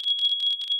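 A smoke alarm in a Minecraft furniture mod beeps in quick shrill high-pitched pulses, about four short tones in under a second, loud and electronic.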